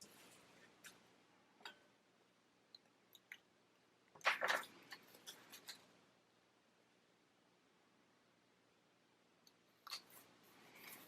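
Scissors trim paper in a planner, heard as faint, close snips and rustles, with a denser burst of cutting and paper handling in the middle and a few more quiet snips near the end, in an otherwise quiet room.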